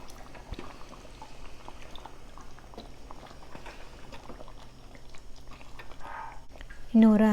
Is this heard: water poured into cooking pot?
yes